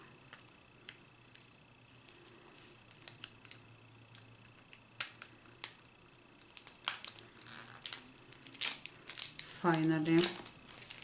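Plastic packaging on a Sephora product is tugged and crinkled, with sparse clicks and snips building into louder crumpling and tearing near the end, while a voice speaks briefly.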